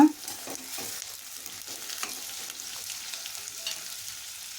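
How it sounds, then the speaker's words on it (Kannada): Garlic frying in a pan for onion rice, a steady hissing sizzle heard up close, with soft scraping and stirring taps throughout and no talking. "ಇದಕ್ಕೆ ಬೆಳ್ಳುಳ್ಳಿನ ಸೇರಿಸ್ಕೊತಾ ಇದ್ದೀನಿ ಅದನ್ನು ಸ್ವಲ್ಪ ಫ್ರೈ ಮಾಡ್ಕೊಳ್ಳೋಣ"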